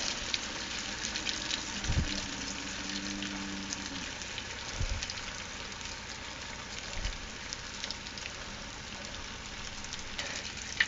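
Mozzarella bites frying in hot oil in a home kitchen, a steady dense sizzle and crackle that runs throughout, with a few soft knocks and a brief tonal clink near the start.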